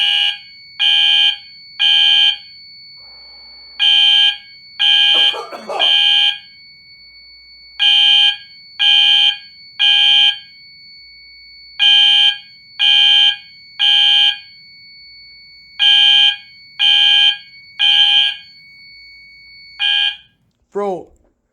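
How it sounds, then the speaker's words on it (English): Smoke alarms set off by a fog machine, sounding a loud repeating electronic beep in short regular bursts, with a brief voice and a quick falling chirp near the end. "It's gonna actually set off my smoke alarms"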